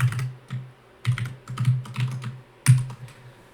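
Quick bursts of typing on a computer keyboard, close and crisp clacks in short clusters separated by brief pauses, no voices.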